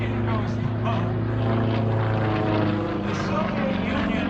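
A Sukhoi Su-31 aerobatic propeller plane performs at an airshow, its engine droning loud and steady with shifting pitch as it maneuvers, and an announcer's voice runs over it.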